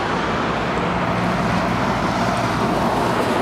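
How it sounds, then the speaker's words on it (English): Road traffic streams across a bridge in Belgrade, a close, steady roar of car and engine noise with tyre hiss and no pauses, and no speech. "This bridge only has road traffic on it."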